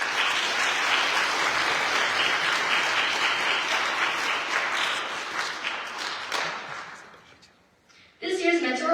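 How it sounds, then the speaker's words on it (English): An awards ceremony audience applauds team, advocate and mentor nominees, with sustained, dense clapping that gradually fades out, followed by a voice starting to speak. "Let's now give a round of applause to the team nominees, advocate nominees, and mentor nominee"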